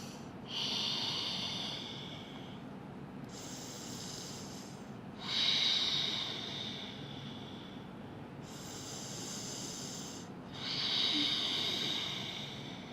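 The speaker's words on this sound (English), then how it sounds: "5 deep breathing." Slow, deep breaths during a yoga workout pose, each long airy inhale or exhale rising and fading in a steady rhythm about every two to three seconds, close and soft, with no talking.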